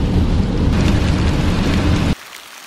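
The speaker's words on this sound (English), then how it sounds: "it is raining the entire weekend." Heavy rain pours steadily during a rainy weekend in New Hampshire's White Mountains, a loud dense hiss that cuts off abruptly near the end, leaving near quiet.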